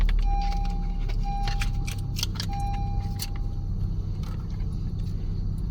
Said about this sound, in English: insert your working key into the ignition and start the car